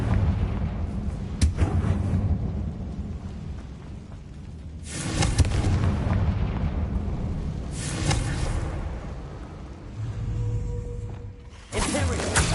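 Bombarda and Confringo spell blasts in the Hogwarts Legacy video game: several loud booming explosions with crackling bursts arrive in uneven succession over a low rumbling game soundscape.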